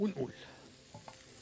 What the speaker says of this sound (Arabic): ونقلب بسم الله